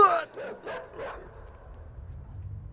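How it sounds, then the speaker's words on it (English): A dog in the video game Inside barks and yelps three times in quick succession up close, then the sound fades into a low rumbling game ambience. "Is that dog still coming? Oh my God, the dog's still coming."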